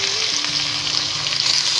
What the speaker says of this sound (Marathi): याच्यामध्ये जिरं घालून घेऊया. जिऱ्याचा चांगला तडका बसला पाहिजे.